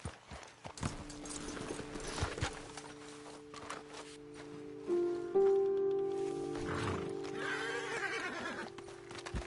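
Horse hooves clop in an uneven walking rhythm, with a horse whinnying and snorting close by over a soft ambient backdrop, in Red Dead Redemption 2.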